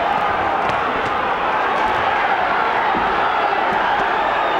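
Boxing arena crowd during a bout between Mark DiGiovanni and Angel Torres, a sustained loud roar of many voices with faint thuds and whoops rising over it, a steady wash of noise throughout.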